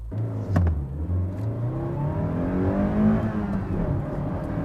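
A first-generation Toyota MR2 mid-engine sports car accelerates hard from a standstill, its engine note climbing steadily through rising revs, loud and close with no talk over it.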